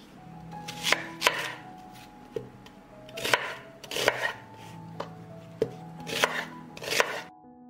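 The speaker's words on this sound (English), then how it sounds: "I will mince the onion." A knife chops peeled onions on a board for a hunter's salad, with quick bursts of sharp close taps coming in several clusters and short pauses between them.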